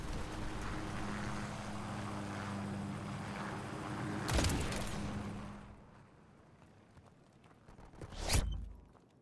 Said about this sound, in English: Enemy Harriers incoming.